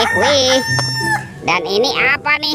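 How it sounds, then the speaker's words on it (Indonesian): A rooster crows loudly nearby in a long, drawn-out call, followed by a person speaking briefly. "yang ini ada ayam berkokok."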